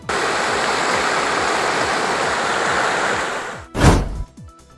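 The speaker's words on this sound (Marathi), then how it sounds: "शेतकऱ्यांच्या पिकातून वाहत आहे पाणी" Floodwater after heavy rain rushes through farmers' crop fields in Kini village, Akkalkot taluka, a loud, steady churning roar close by that breaks off near the end with a brief thump.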